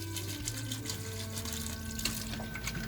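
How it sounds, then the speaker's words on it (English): Water being poured into a rotary tumbler full of ceramic tumbling media for stonewashing a bushcraft knife, a steady running, splashing stream with a tap-like hiss that continues without pause. "Like I pour a lot of water in them."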